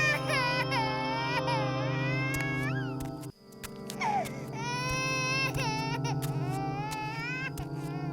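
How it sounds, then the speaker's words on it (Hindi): An infant wails continuously in high, shrill, wavering cries, loud and close, with a brief catch of breath partway through before the crying resumes. "ये रोने की आवाज कैसी?"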